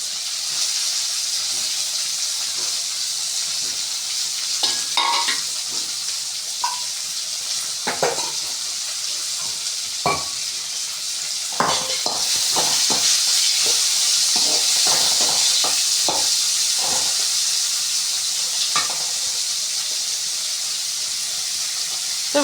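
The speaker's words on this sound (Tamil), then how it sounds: "இப்போ கட் பண்ணி வச்சுருந்த தக்காளியே போட்டுக்கலாம்." Chopped tomatoes frying in a hot pan give a steady loud sizzle and hiss, broken by repeated scraping and clinking as a spatula stirs against the metal, with the sizzle swelling midway.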